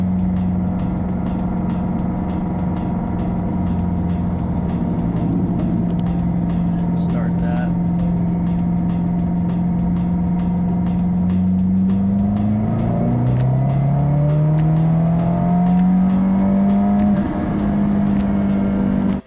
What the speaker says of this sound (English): Set up for our third gear pull right here.